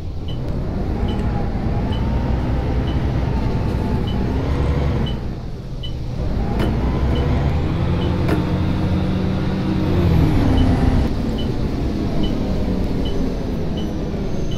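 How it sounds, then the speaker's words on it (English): Engine of a bus in the OMSI 2 bus simulator game, with its retarder, drones loudly and steadily, dipping briefly once before climbing again, a continuous heavy rumble with faint ticking over it. "I can hear the retarder. It's not that loud. Well, it's probably loud, but the engine is even louder."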